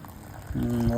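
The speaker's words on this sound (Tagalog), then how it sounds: "Lagyan tayo ng tubig na mainit." Hot water is poured into an instant potato soup cup, starting as a soft trickle and swelling into a steady, rising pour as the cup fills.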